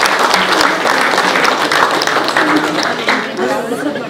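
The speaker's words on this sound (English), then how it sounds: "Big round of applause." Sustained applause from an audience welcoming a film-debut panel at a Kannada movie Dilwala meet-and-greet. The dense, steady clapping fills the whole span, loud and close, with voices mixed into it.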